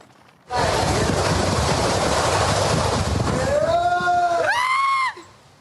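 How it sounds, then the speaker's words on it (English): Category 5 hurricane wind gusts in Jamaica blast steadily for several seconds, loud and broadband, with a rising whistling tone near the end before cutting off. "The heavy gusts are ripping roofs off buildings and toppling utility poles."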